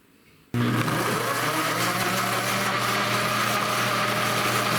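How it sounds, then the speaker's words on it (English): An electric blender starts abruptly and runs at a loud steady whir, grinding tomato with garlic cloves and cumin into a sauce, with no talking over it. "now grind the tomato with the garlic and cumin."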